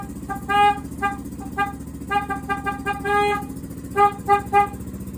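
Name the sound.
motorcycle horn honking after repair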